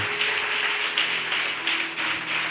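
A church congregation claps in steady, continuous applause, filling the space with a dense wash of hand claps that swells slightly in waves.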